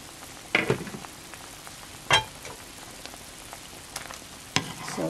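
Sautéed sponge gourd (patola) with misua sizzles in a covered pan, a constant soft frying hiss broken by a few sharp pops or stirring clatters, close and steady, with no voices.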